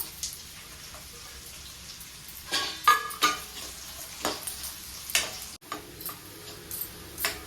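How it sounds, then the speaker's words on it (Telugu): Chopped onion pieces hit hot oil for a chicken dish, giving irregular crackling bursts and stirring clatter over a low sizzle, close and moderately loud, with no talking. "నూనె వేడైంది. ఉల్లి ముక్కలు వేద్దాం."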